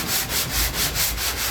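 Hand sanding along a metal edge, a rhythmic back-and-forth rasp of about seven close, even strokes with no talk.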